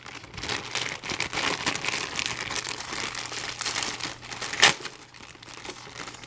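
Thin plastic bag holding Beats Solo HD headphones crinkles continuously during unboxing, a dense close rustle with one sharper crackle near the end.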